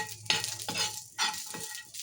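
Crushed garlic and curry leaves spit and crackle in hot oil, in irregular bursts of sizzling mixed with stirring, heard close and fairly loud.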